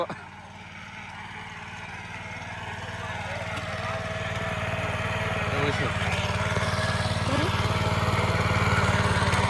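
A tractor engine drones steadily nearby during rice sowing in Konkan, its low rumble slowly building in loudness, with faint voices in the background.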